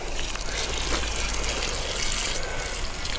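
Water pours steadily from a bucket onto soft, loose soil around a newly planted grape seedling, making a continuous close gushing splash with no talk.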